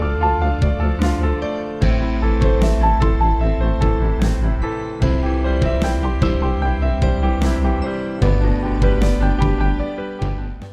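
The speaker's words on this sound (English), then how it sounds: "it turns these technical exercises into a really cool sounding piano piece" Piano warm-up exercise at its tenth stage, fast repeated technical patterns played over a full backing track with drums and bass, loud and continuous with a punchy crash at the start of each phrase.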